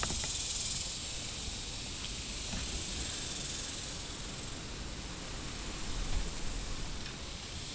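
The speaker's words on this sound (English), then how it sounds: "I just sprayed it down with some green" A steady hiss of spray paint as a jointed swimbait fishing lure is coated green, continuous and close with faint background noise and no speech.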